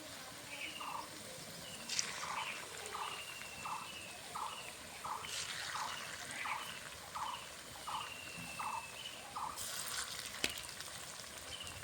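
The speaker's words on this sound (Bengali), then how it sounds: "আস্তে আস্তে জালে ভাজতে হবে কোফতাটা, তারপরে ভিতরে কাঁচা থাকবে।" Bottle gourd kofta frying slowly in oil makes a faint, steady sizzle, joined by a regular series of short, squeaky tonal chirps that repeat roughly every half second.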